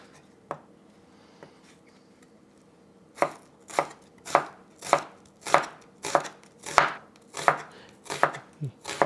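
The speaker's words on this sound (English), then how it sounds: "we start just making our sauce by start slicing the onion" A knife slices through an onion on a cutting board for a Persian rice meatball sauce, with a couple of isolated cuts followed by a steady run of crisp, close chopping strokes about twice per second.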